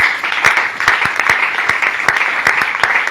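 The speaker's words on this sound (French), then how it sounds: "acclame plus fort pour la gloire du Seigneur" A church congregation applauds during a sermon, a dense, steady burst of clapping mixed with scattered shouts and voices, loud and close.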